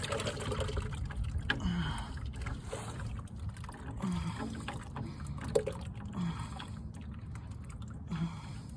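Hydraulic oil drains heavily from a Boxer 427 compact machine, a steady close trickling, splashing stream with small gurgles, with no talk over it.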